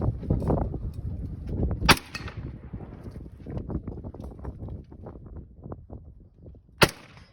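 Two sharp, loud rifle shots ring out at an outdoor shooting range about five seconds apart, the first over rumbling wind noise and the second standing clear above a quieter background.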